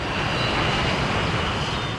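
Engines of a twin-engine Boeing 737-300 passenger jet airliner produce a loud, steady, close roar with a constant broadband hiss and no variation.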